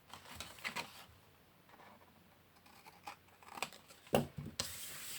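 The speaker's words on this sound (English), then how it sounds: "I just trim them off a little bit" Scissors snip off the overlapping panels of a folded paper gift box, giving a few soft cuts and rustles of paper at close range, then a sharper crisp snip near the end.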